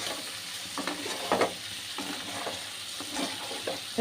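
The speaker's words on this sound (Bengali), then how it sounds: "আমি শুধু কষাবো" Tripe curry sautés in a pan with a continuous sizzle, while a spatula scrapes and stirs in irregular strokes, one louder clatter standing out midway.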